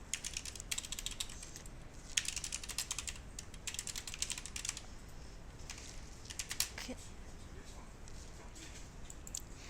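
Clicky computer keyboard typing in quick bursts of keystrokes with short pauses between, fairly faint and close, with no voice over it.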